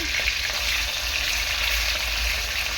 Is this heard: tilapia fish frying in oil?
yes